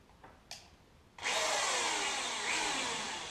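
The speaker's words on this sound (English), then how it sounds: "So drill pilot holes," A power drill boring pilot holes into a wooden pallet board for a planter: a couple of faint taps, then the motor kicks in loud and close, whining steadily as the bit bites into the wood.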